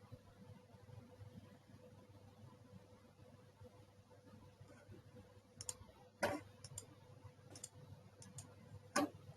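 Faint computer mouse clicks sound in a quiet room, a few isolated sharp ticks plus two louder ones, over a low steady hum, no voice.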